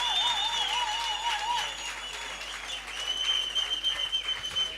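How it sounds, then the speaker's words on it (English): An audience at a business workshop and expo applauds in a sustained wash of clapping, steady and moderately loud, with a faint tonal whistle or feedback line running through it. "A massive round of applause."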